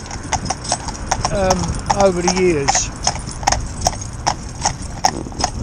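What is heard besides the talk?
Gelderlander horses' hooves clip-clopping during pair work training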